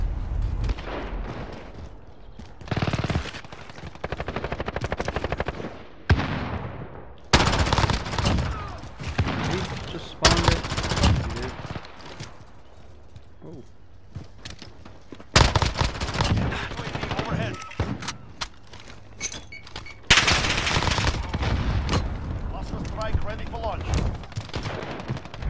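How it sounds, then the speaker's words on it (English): D90 SMG fire in Call of Duty Modern Warfare crackles in rapid, loud automatic bursts, repeated in several strings with other gunfire and game sounds between, while a voice talks at times. "I love D90. It's a very underrated SMG in my opinion."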